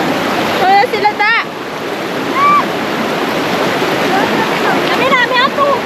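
A stream rushes loudly and constantly close by, while people talk and call out over the roar of the water.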